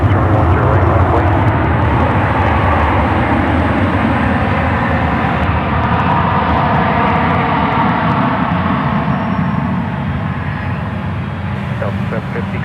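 A jet airliner rolls for takeoff on runway 10 right at San Francisco airport, a loud, continuous broadband engine roar that holds steady throughout and eases only slightly toward the end.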